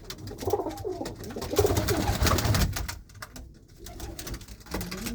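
Pigeons of a fine breed coo steadily up close, their low, rolling calls overlapping in a continuous murmur with a brief lull partway through.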